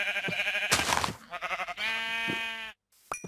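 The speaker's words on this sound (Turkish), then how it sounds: "Aa koyun." Sheep in the game Minecraft bleating in a few short, nasal calls, close and clear, separated by brief pauses and ending in silence.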